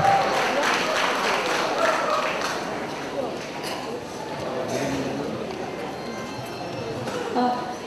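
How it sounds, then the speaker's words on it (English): An audience at a college annual day function applauds as performers are welcomed on stage, a moderate wash of clapping at first that thins out while voices and chatter continue over it. "A round of applause for Sochumulo and Vidushi."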